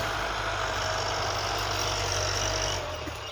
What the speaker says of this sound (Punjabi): ਇਹ ਵੱਜ ਰਿਹਾ ਜੀ ਟਰੈਕਟਰ